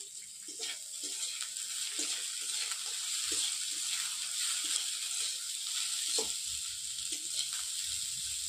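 Carrots fry in a pan with a steady, moderate sizzle, with soft scraping and tapping as they are stirred at irregular intervals, close and without talk.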